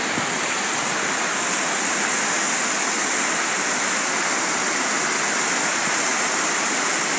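Water from the small Khamkarwadi lake rushes down a channel beneath a bridge, a loud, steady, close hiss with no pauses.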